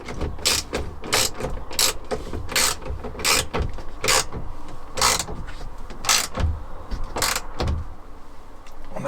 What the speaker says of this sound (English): now I'm tightening the bolt that holds it all together back up.